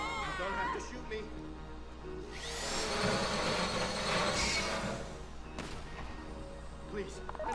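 A drill grinding during a heist in the video game Grand Theft Auto V, rising into a sustained whirring roar for a few seconds, then fading under voices and background game noise.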